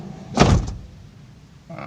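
Door of a 2017 Daihatsu Sigra R car shut firmly, one solid thunk followed by a quiet interior hum and a faint second noise at the end.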